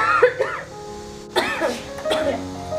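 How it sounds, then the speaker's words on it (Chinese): A woman coughs in short bursts, with a cluster near the start and two stronger, harsher coughs later, close and fairly loud in an indoor room. "这怎么咳嗽起来了？"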